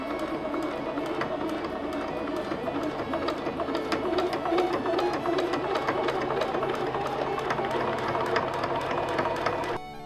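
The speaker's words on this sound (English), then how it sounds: "Let's sew a strap of leather onto canvas." A Juki HZL-F400 sewing machine stitching a leather strap onto canvas, running in a fast, steady mechanical chatter of needle strokes for about ten seconds before stopping, close and alone.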